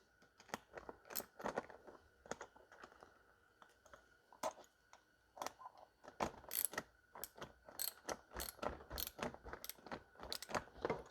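A hand ratchet tightens the wheel bolts on a home-built mini bike, its rapid clicking coming in repeated bursts with short pauses, close and fairly loud throughout.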